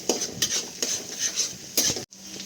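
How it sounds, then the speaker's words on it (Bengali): A utensil scrapes and clinks against a pan in repeated stirring strokes over a soft sizzle of garlic frying in oil. "তো রসুনটা একটু ভাজা ভাজা হওয়া অবধি তেলে নেড়ে ছেড়ে নিতে হবে।"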